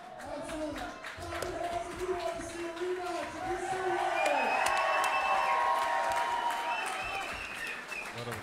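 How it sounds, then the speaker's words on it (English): Crowd at an MMA event cheering and applauding wildly, a dense roar of claps and shouts that builds toward the middle and stays loud, with nearby voices talking over it. "crowd going wild"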